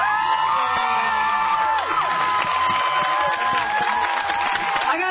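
An audience at a back-to-school music jam cheers loudly and steadily, with whoops and shouts, some from children, rising over a dense crowd roar for the whole stretch.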